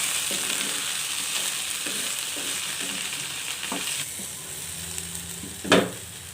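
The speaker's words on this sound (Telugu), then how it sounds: "మళ్ళీ మిగిలిన బెండకాయ ముక్కలను కూడా వేసుకొని ఇదే విధంగా ఫ్రై చేసుకోవాలి" Pieces of okra fry in hot oil in a pan with a constant close sizzle, broken by a series of spatula stirs and scrapes and one sharper clatter near the end.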